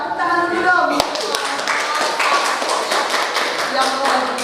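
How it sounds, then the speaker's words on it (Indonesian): Schoolchildren in a classroom clap their hands together, a dense close burst of many claps that starts after a second and keeps going, with children's voices mixed in. "Tepuk tangan dulu dong."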